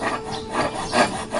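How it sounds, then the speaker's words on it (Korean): A wooden fan handle being roughed into shape with an adze gives repeated rasping, scraping strokes on wood, close and fairly loud, about three rubbing pulses in quick succession. "다듬어진 나무는 자귀를 이용하여 자루의 대략적인 형태를 잡아줍니다."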